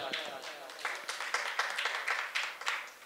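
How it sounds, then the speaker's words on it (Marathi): An audience at a devotional gathering claps loudly and unevenly, with bursts of hand claps rising and falling while a voice speaks over them through a microphone. "सर्वांनी जोरदार टाळ्या वाजवा."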